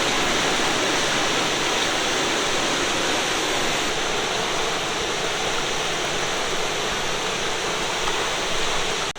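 Swollen, fast-moving mountain river water at the Middle Prong near the Greenbrier entrance in the Great Smoky Mountains, flooded by Hurricane Ida, roars as a loud, constant, close rush of turbulent whitewater with no voices.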